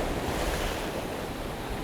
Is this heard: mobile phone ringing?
no